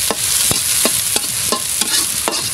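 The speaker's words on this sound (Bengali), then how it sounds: "বাগারটা হচ্ছে আমি ভাজা দিয়ে উঠায় রাখবো, যে ডাল হয়ে গেলে পরে যাতে ডালের উপরে দিতে পারি" Tempering (bagar) for dal frying in hot oil, a continuous bright sizzle broken by regular scraping strokes of a spoon stirring in the pan.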